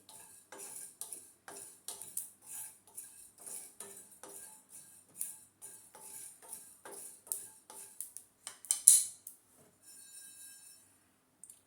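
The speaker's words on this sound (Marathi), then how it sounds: "सोप देखील आपल्याला इथे हलकंसं एक दोन एखादा मिनिटभर परतवून घ्यायचे आहे" Fennel seeds being dry-roasted in a pan, a string of light metallic ticks and scrapes as the seeds are stirred, quiet and close, growing sparser before a brief louder clink near the end.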